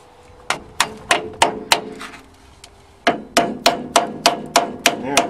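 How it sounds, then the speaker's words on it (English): Sharp metallic hammer blows on a chisel against a backhoe rear axle bearing, first a run of about five strikes, then a pause and a steady run of about eight more, loud and close. "now I'll have to chisel at that and see if I can get it out"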